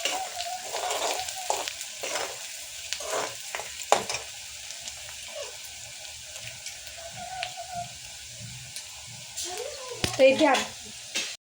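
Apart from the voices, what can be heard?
onion frying in a pan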